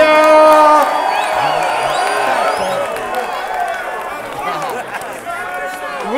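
A large crowd at a rap battle in Toronto cheers and whoops loudly, a dense roar of many voices with shouts rising above it throughout.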